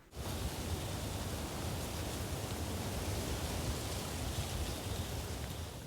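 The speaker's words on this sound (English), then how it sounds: "I also went ahead and added the little bit of gust of wind that it comes in through" A gust of wind rushes through tree leaves and branches, a broad steady airy roar that swells in quickly and holds at an even, moderate level, with no voices.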